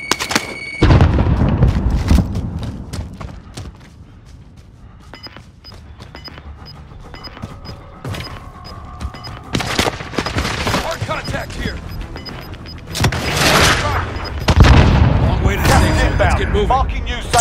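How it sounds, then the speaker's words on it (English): Frag grenade blast and bursts of gunfire in the Call of Duty Warzone video game, dense and loud throughout with booms and rapid shots, and game voice callouts spoken over the action. "Grenade out!"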